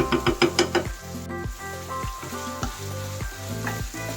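Boiled, finely shredded chicken breast hits a hot pan with a steady sizzle, preceded by a few quick clinks and stirring scrapes, close and clear with no talk.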